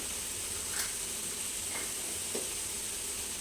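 Pieces of bottle gourd cooking in a pan with salt and green chilli paste, giving a steady soft sizzle with a few faint clinks, alone and without talk.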